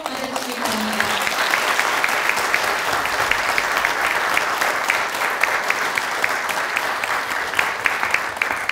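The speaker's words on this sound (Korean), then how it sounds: "김두관 회원님을 큰 박수로 맞아주시기 바랍니다." A large forum audience in Korea bursts into sustained, dense applause to welcome a politician onto the stage, a steady roar of many hands clapping throughout, with a brief voice at the very start.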